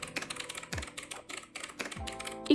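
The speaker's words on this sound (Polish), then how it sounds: "Zatem wpisujemy tekst i klikamy transkrybuj." Keys clack on a computer keyboard as text is typed, a quick irregular run of crisp clicks close to the mic, then a few heavier key presses at the end.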